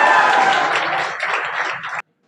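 Loud, sustained audience applause welcoming a teacher on stage, dense continuous clapping that holds steady for about two seconds before cutting off abruptly.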